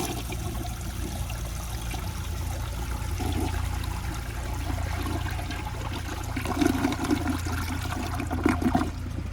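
A 1977 Universal-Rundle Citation toilet flushes with a steady rushing, gurgling wash of water lasting the whole stretch, growing slightly louder and more turbulent toward the end, with no talking.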